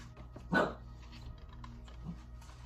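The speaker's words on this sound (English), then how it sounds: "The dog Tilly's barking" A dog gives one short, fairly loud bark near the start, followed by a faint second yelp, against a quiet indoor room with soft clicking like keyboard typing.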